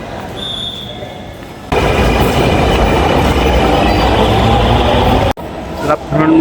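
A Dhaka metro rail train at Mirpur 10 station sets off with a sudden loud, steady rumbling roar of wheels and motors close by, which runs for several seconds before a brief cutoff; faint station chimes come first.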